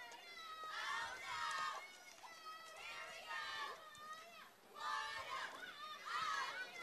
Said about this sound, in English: the Crusader crowd gets into it